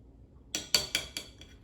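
Several quick clinks of a utensil striking a bowl while baking ingredients are mixed, four or five bright taps in a row, close and fairly quiet.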